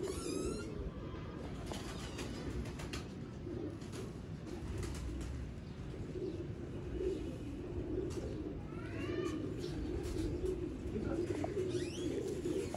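Low, steady cooing from several Sialkoti rooftop pigeons fills the background, with occasional brief chirps of other birds over a constant ambient hum.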